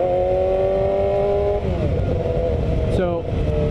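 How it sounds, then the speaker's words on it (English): A motorcycle cruises on the highway with a loud, steady engine drone and rushing wind, its pitch sliding down and then rising again as the rider shifts, heard up close throughout. "So, we're gonna do some highway riding."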